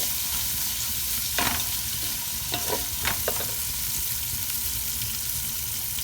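Onion frying in a pan for a vegetarian fish curry, a dense, constant sizzle with a few brief scrapes of stirring partway through.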